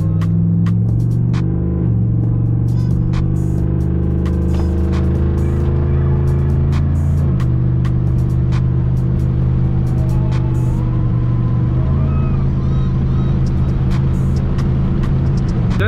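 A cammed 2006 Chevrolet Monte Carlo SS V8 idles close and loud, its lumpy, throbbing rumble steady throughout, with the pitch shifting at a few points as the revs change.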